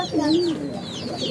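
Domestic pigeons coo in a soft, wavering call close by, a short low warble rising and falling once or twice.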